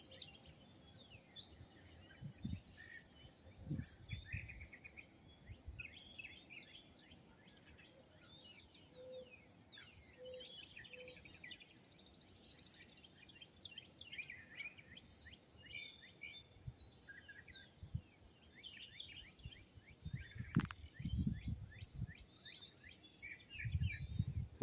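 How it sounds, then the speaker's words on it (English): Many birds sing and chirp together outdoors on a spring morning, a busy chorus of overlapping calls and trills at moderate distance, with low rumbling background noise and no talking. "so you can hear all the birds"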